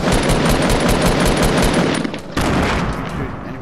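Rapid, loud automatic gunfire in Fortnite, a continuous close burst with a short break before firing resumes.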